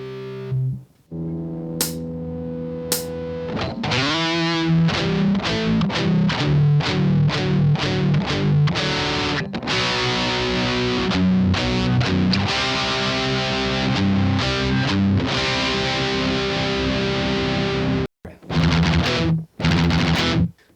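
Heavily distorted electric guitar plays rapid palm-muted open E pedal tones and power chords in a driving double-time rhythm, loud and up front, ending with a few separated stabs after a short break.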